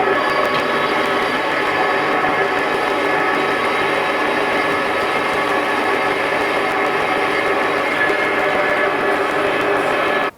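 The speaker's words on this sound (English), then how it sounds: "That's why I've not sped it up, because it's machining really nice" A lathe thread-cutting valve spindle rods for a 7 1/4-inch steam locomotive makes a loud, steady, dense machining whir and hiss that continues unbroken throughout, with no talk.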